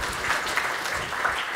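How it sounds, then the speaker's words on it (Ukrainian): Steady audience applause at an official Ukrainian state presentation event, a dense even patter of clapping heard alone without speech, moderately loud throughout. "Ще раз оплески"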